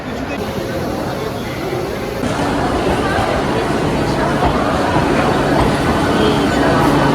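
A Burdwan local train via Howrah rumbles steadily at platform seven of Howrah station, its broad continuous drone growing slightly louder over a few seconds, with busy platform crowd noise mixed underneath.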